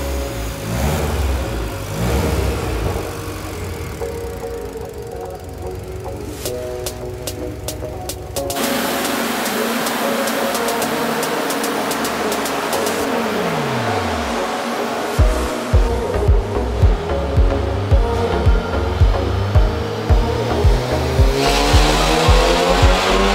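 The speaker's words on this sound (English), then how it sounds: "This car is absolutely loud" A Colab Tuning VW Golf 7.5R engine revs hard and loud, a sustained roar shifting to sharp repeated throttle blips with crackling pops toward the end, close and dominant.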